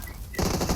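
A machine gun fires a rapid burst in an online battle royale match on the Miramar map, loud and close, filling most of the short moment with no talk.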